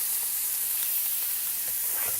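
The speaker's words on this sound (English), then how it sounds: "Fry that up." Slices of meat sizzling on a Weber Q1200 gas grill, a steady close-up hiss and crackle that runs without a break, with no voices.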